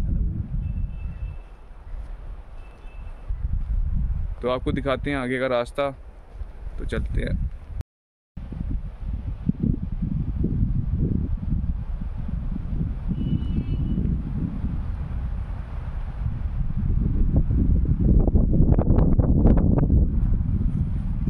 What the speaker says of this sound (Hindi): यहाँ पर हवा की आवाज़ भी आपको आ ही रही होगी।